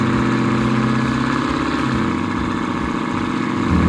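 A twin-turbo 427 engine in a Chevelle restomod runs loud and steady, a dense continuous rumble with slight changes in pitch and no speech over about four seconds.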